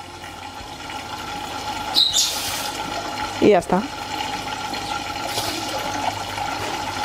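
Water runs from a reverse osmosis hose into a home aquarium, a low steady trickle broken by a few brief louder splashing surges, while a person speaks briefly.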